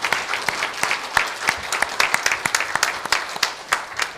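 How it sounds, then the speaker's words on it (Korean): A congregation at a Sunday worship service in a Korean Methodist church claps together, a close, lively round of applause with many distinct claps falling in a loose rhythm and no voices. "하나님께 박수 영광 돌립니다"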